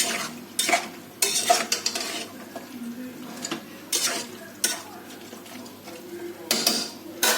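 A spoon scrapes and stirs chicken curry with freshly added tomatoes in a pan, giving bursts of clattering, scraping strokes over a soft, steady sizzle, close and fairly loud, with no talking.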